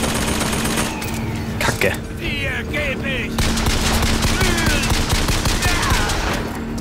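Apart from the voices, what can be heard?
machine gun fire in BioShock Infinite video game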